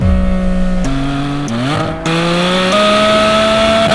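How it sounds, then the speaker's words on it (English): A 2025 Porsche Spyder RS engine revs hard on the move, close and loud, its tone climbing in stepped surges with quick dips between shifts and a rising howl toward the end. "has the most crescendo of any engine I think I've ever driven"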